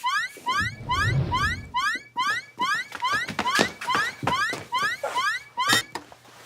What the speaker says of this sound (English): You set off the alarm.